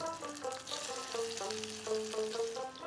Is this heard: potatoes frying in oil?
yes